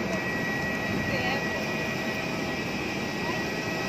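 An airplane rolls at Siem Reap airport in Cambodia just after touchdown, giving a steady loud cabin roar with a thin engine whine throughout, while voices talk underneath.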